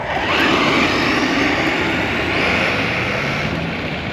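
A Traxxas Rustler 4x4 RC truck upgraded with a bigger motor running at full throttle, a loud steady high-pitched electric whine with broad roaring noise close by and no pauses.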